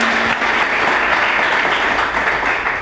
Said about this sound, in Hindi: एक अच्छा ताली प्रभु यीशु के जोर में।